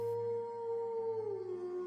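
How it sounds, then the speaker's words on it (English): A single long wolf howl holds a steady pitch and then slides downward, sounding clear and sustained with no talking. "You hear the call of the wolf once again"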